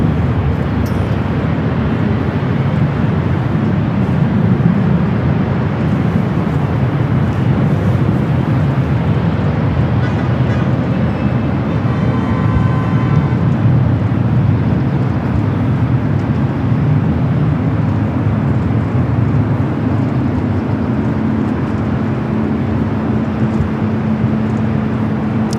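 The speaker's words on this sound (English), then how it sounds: "Philippine Flight 113 heading back to Manila in this 777-300ER." A Philippine Airlines Boeing 777-300ER at LAX rumbles with a loud, sustained jet-engine roar, steady and close throughout, with a faint tonal whine rising near the end and no talk.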